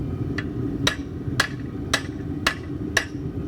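Hammer knocking a burr off old train rail steel: six sharp metallic strikes at a steady rhythm of roughly one every half second, ringing over a constant low background rumble.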